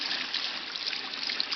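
Water from a spring beside a river trickling and splashing steadily, a close, continuous bright hiss with small bubbling bursts and no voices.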